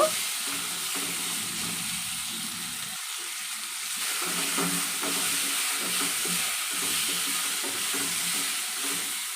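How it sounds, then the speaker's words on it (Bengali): Chicken seasoned with salt and turmeric is stirred gently in a pan, a soft continuous sizzle with irregular scraping strokes, fairly quiet and without talk. "লবণ হলুদ দেওয়ার পরে একটু হালকা নাড়াচাড়া দিয়ে নেব।"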